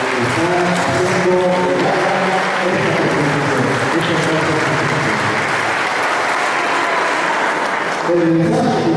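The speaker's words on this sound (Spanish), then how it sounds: "les entreguemos un cordial aplauso" Audience applause at a primary school closing ceremony, loud continuous clapping from a large crowd filling the space, with a voice speaking over it at the start and end.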